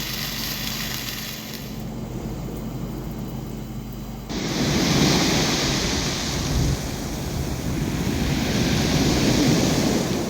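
Sea waves wash onto the shore beside a beachfront tent camp, a steady broadband roar mixed with wind noise that swells noticeably louder partway through and stays full and close.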